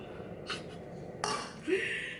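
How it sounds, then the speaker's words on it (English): A frying pan is handled in a home kitchen while eggs are prepared, giving a few separate metallic clinks and clatters against quiet room tone, with the sharpest knock near the middle. "I'm gonna heat my pan up and I'm gonna mix my eggs in here."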